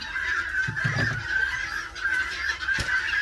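Several chickens, including a broody hen, cluck and murmur close by in a coop in a continuous low chatter, with a soft thump partway through.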